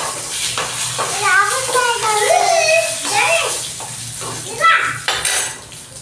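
Tempering of garlic, dried red chillies and curry leaves sizzles and crackles in hot oil for chicken fry while a person talks over the steady frying, with a clink of metal near the end.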